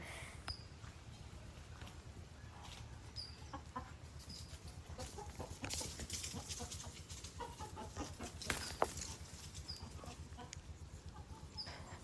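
Chickens and chicks roam around a village house, clucking and cheeping softly in scattered calls at a moderate distance over a low steady background hum, with no talk.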